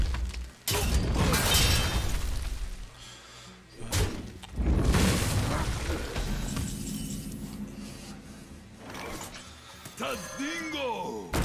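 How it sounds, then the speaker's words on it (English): The Arcane Explosion spell in the card game Hearthstone bursts out as loud, sudden crashing blasts with shattering, magical swells that fade and return in several waves, ending in lighter chiming tones. "So we got our arcane explosion, which is good."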